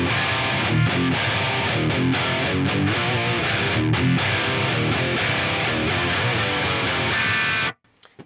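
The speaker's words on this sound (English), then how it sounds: "If I play a particular riff and I pick really hard and I dig my pick in" Hard-picked electric guitar riff with heavy distortion, played loud and continuous for about eight seconds with loose muting before stopping abruptly.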